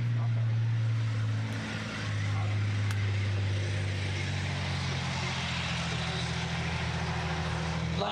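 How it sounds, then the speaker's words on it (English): A British main battle tank engine roars steadily with a deep, throaty rumble, loud and continuous, as the tank passes nearby in an arena display. "you can hear the throaty roar of that engine"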